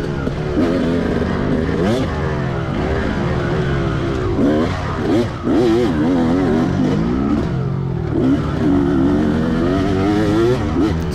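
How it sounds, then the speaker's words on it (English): Motocross race with several bikes, including a 250cc two-stroke revving hard behind a 2004 Kawasaki KX250, engines screaming and rising and falling in pitch through shifts, a loud continuous roar with wind rush. "Oh, you can hear that 250 up behind me."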